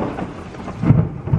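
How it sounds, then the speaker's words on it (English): Heavy rain pours outdoors at a college move-in, a loud dense hiss of drops hitting the ground, with low rumbling swells that rise and fall through the downpour. "it is raining very hard"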